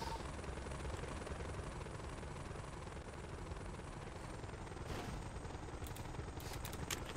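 A continuous rotor roar of a helicopter in the video game FiveM fills the scene, steady and loud, with a few sharp cracks near the end.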